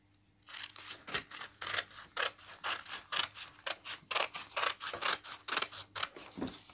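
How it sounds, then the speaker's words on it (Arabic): Scissors cut fabric for an abaya in a close, quiet series of crisp snips, about two or three a second in a steady rhythm that runs almost the whole clip. "وبعدين هنبدأ ان احنا نقص واحدة واحدة."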